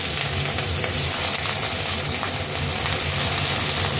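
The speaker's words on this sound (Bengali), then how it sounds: "এবার মাছগুলো আমি ভেজে নেব।" Rohu fish pieces frying in hot oil in a kadai for a Bengali kaliya, giving a continuous loud sizzle and crackle with faint stirring, and no voices.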